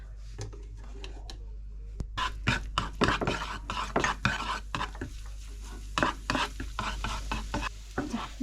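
Pork stir-frying in a wok: a quiet sizzle under repeated scraping and clinking of a utensil against the pan, irregular and close.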